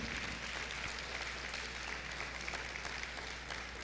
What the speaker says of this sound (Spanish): Dele un fuerte aplauso entonces al Señor si lo cree.